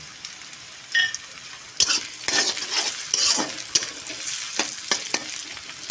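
Chopped onions fry in a pan with dry chilli powder, sizzling steadily as a spoon scrapes and stirs in uneven bursts of clatter, close and fairly loud with no voices.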